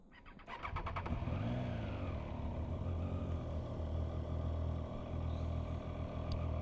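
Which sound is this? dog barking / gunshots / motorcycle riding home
motorcycle riding home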